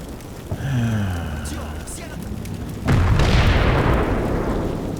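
A tank fires and hits its target in Combat Mission Black Sea at the Oster River Bridge battle, a sudden heavy boom followed by a loud rumbling roar that persists, with a voice talking beforehand.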